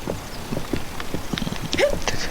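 Horse hooves clip-clop in a Zelda game, a quick run of light, evenly spaced knocks that slow toward a stop, close and clear.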